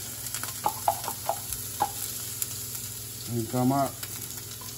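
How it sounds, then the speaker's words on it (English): Garlic sizzles in a hot pan for vegetables, a soft, steady fry hiss under a man's brief speech, with a few light clicks nearby. "All right, pan hot for these vegetables. We're gonna go in with a"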